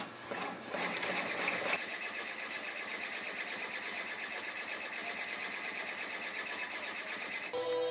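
Embroidery machine stitching in a Jombo Fast Frame, a steady close mechanical whir with rapid rhythmic needle ticking running continuously.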